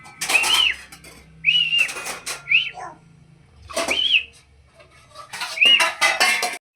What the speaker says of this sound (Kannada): ಚೆನ್ನಾಗಿ ಮಿಕ್ಸ್ ಮಾಡಿ 2 ವಿಷಲ್ ಕೂಗಿಸ್ಕೊಂಡ್ರೆ ಸಾಕಾಗುತ್ತೆ